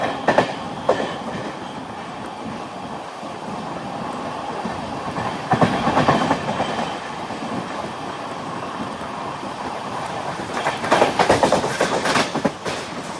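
An Amrit Bharat Express sleeper train rolls out of Kollam railway station, its wheels beating a steady clickety-clack under a loud, continuous rumble of moving carriages.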